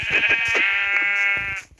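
A sheep bleats in a long, wavering cry, close and loud, with short clicking game sounds underneath before it trails off, in Minecraft.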